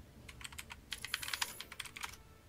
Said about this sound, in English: Oh shit, I was typing.